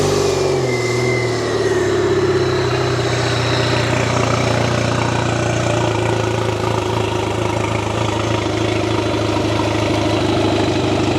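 An old outboard boat engine starts and runs, fitted with a new alternator, giving a loud, steady motor drone with some revving that holds for the whole stretch.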